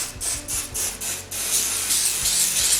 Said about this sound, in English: I'm just spraying the top of it, still getting the edges